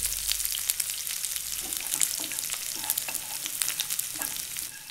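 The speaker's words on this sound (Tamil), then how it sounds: "ஃப்ரை பேனில் எண்ணெய் சூடானதும் சின்ன துண்டுகளாக வெட்டின வெங்காயத்தை போட்டு அது கூட உப்பு சேர்த்து பொன்னிறமாக வர வரைக்கும் வதக்கிக்குங்க" Chopped onions with salt sauté in hot oil in a frying pan, making a close, steady sizzle and crackle with occasional stirring scrapes, no talking.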